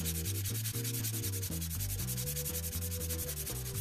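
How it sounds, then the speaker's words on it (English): Sandpaper scrubs the oxidation layer off a hacksaw blade being made into a lock pick, giving rapid, rhythmic back-and-forth rasping strokes that are close, steady and continuous. "First, we need to sand off the oxidation layer so we can see the color of the actual metal."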